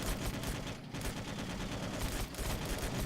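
Rapid, continuous machine gun fire from the video game Alien Swarm, a dense unbroken stream of close, loud shots lasting throughout with no talking.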